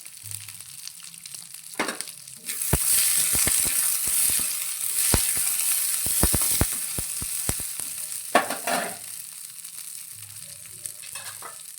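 Four or five garlic cloves fry in oil for a spicy chilli thecha, giving a steady, close sizzle with sharp crackles and pops. Occasional stirring scrapes break through, and the sizzle eases toward the end.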